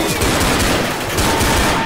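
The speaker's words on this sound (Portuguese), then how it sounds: "Mas quem tá atirando aqui?" Rapid, dense gunfire from Left 4 Dead's Blood Harvest campaign, with loud overlapping automatic shots rattling close and continuously throughout.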